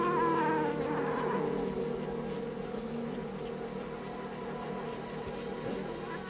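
A cat yowling in the old sci-fi film The Atomic Brain, with a drawn-out wavering meow at the start fading into a quiet, steady background drone.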